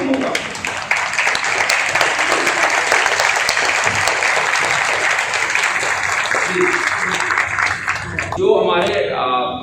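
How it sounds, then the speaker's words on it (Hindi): A standing audience at a university summer camp event for children delivers a long, loud ovation of dense clapping, voices mingling in, before a speaker begins talking near the end. "मैं आपसे अनुरोध करूंगा स्टैंडिंग ओवेशन के लिए कि जितनी तालियां खड़े होकर के हम बजाएं वो कम होगा"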